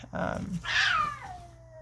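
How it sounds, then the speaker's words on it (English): A cat lets out a loud, close meow with a rising then falling pitch, trailing off into a long thin tone, right after a brief lower vocal sound. "That cat scared the heck out of me."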